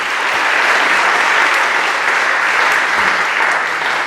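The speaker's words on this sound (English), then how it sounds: "a loud round of applause" Crowd at a Hall of Fame ceremony honoring a basketball team, giving a loud, steady round of applause that fills the whole stretch evenly without pause.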